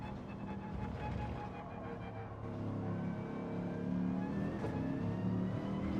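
Race car engine in Gran Turismo 7 coasting off the throttle, a steady whirring engine drone that swells slightly louder midway, with faint tonal whine and no talk.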